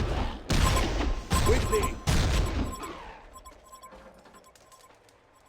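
Rapid bursts of video game gunfire from a fantasy battle, three loud volleys in quick succession that fade into scattered distant shots and clinks, with a voice calling out briefly.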